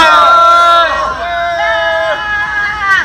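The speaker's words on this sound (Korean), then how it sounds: "큰 함성과 박수로 시작하겠습니다." A crowd shouts and cheers together in a loud, sustained roar of many voices that swells and fades, at an outdoor political rally of a high school alliance in South Korea.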